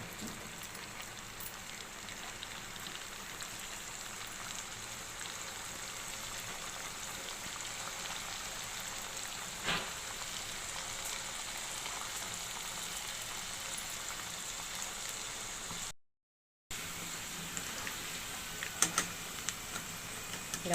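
Samosas deep frying in hot oil make a soft, even hiss of fine bubbling that runs steady and fairly quiet throughout, broken only by a brief dropout and a few light clicks, with no talking.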